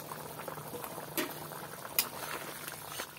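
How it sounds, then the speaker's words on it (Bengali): Curry gravy with fried potatoes bubbles at a rolling boil in a pot for an egg biryani, giving close, continuous soft gurgling broken by a few sharper bubble pops. "ঝোলটা ফুটে উঠেছে"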